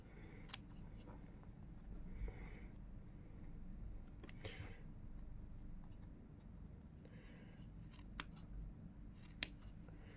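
Scissors snip thread trimming a crocheted lily of the valley flower, a few sharp, quiet cuts spaced out over a low steady background hum.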